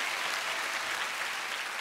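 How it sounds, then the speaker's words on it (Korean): Studio audience applauding a guest singer-songwriter on a Korean music talk show, a steady, even wash of clapping filling the whole moment with no voices on top. "박수를 부탁드리도록 하겠습니다"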